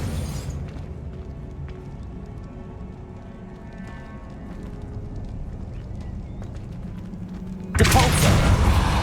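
Spell effect from the Hogwarts Legacy video game: a sudden loud, bright burst of Expelliarmus near the end, cutting through a steady murmur of low in-game ambience.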